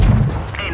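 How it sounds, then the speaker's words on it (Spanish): High-explosive tank shell fired in World of Tanks Blitz, a single heavy boom with a deep low thud at the start that quickly decays into a fading rumble. "Ahora te tengo una sorpresa, una munición de alto explosivo."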